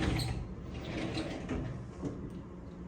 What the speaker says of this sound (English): it does come with a sliding door